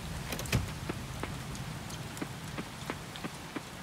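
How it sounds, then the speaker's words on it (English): Heavy rain in the video game Coral Island, a steady, faint wash of falling water with scattered soft taps and knocks across it and no talk. "Still raining heavily"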